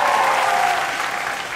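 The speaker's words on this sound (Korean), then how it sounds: "박수 너무 강렬해요" Loud, dense applause from a theater audience at a Q&A event for the musical Rent, a steady wash of clapping that holds strong throughout and fades only slightly at the end.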